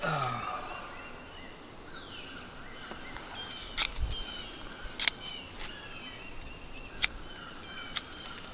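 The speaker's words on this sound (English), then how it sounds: "You hear those birds making noises?" Scattered bird calls chirp faintly in the background outdoors on a homestead after major storms and torrential rain, a few brief sharp calls over steady ambient noise with no talking.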